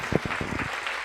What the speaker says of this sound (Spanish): Den ese fuerte aplauso al Señor en esta mañana